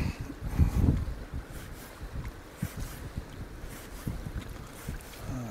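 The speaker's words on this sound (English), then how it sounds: "A bit of wind coming in now." Wind gusts across the River Dee in Scotland during salmon fly fishing, a broad rushing hiss with low buffeting thumps on the microphone, steady and close throughout.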